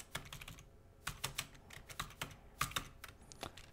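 Keys clatter on a computer keyboard as C# code is typed, a quick, uneven run of close, crisp clicks with short pauses between bursts.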